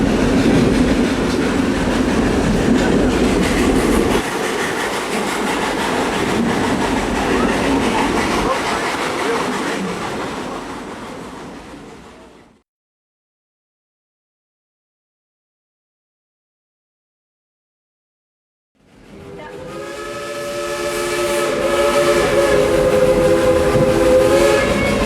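A narrow gauge steam train at Dollywood rumbles and clacks along the track, fading into silence before returning with a long, loud multi-tone steam whistle.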